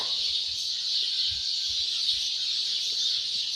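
A dense, continuous chorus of high chirping, many small birds calling together at once at dawn at Nilkanth Dham, steady and unbroken with no voices.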